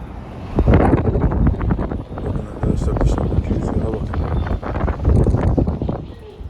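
Strong gusting wind from a severe storm roars and buffets the microphone, with rain-like clatter and a voice speaking over the noise throughout.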